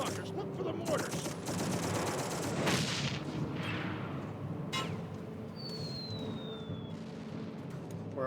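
Gunfire from soldiers opening fire in the video game Darkest of Days, rapid volleys of rifle and machine-gun shots with heavy booms, dense at first and thinning into scattered shots, with a whistling shell streak and voices underneath.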